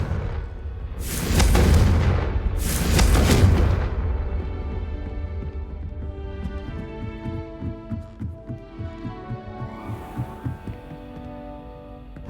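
Two heavy, loud booming blasts about a second and a half apart from the Confringo explosive spell in Hogwarts Legacy, each a deep throbbing thump, followed by a low humming, pulsing backdrop with faint rhythmic thuds.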